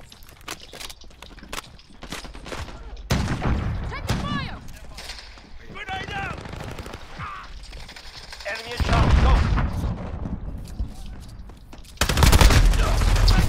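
Call of Duty gunfire cracks out in bursts and sharp single shots, some distant and some close and loud, with players talking excitedly over the battle and game voice cues.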